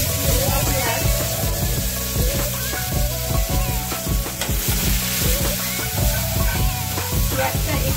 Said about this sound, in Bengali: আমি ফোড়নের জন্য একটু পাঁচফোড়ন ব্যবহার করলাম।